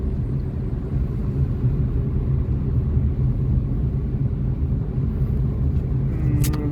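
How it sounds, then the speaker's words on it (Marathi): A car's engine rumbles steadily and low while driving slowly, a continuous droning hum with no speech and a faint brief click near the end. "मी चालवतोय गाडी"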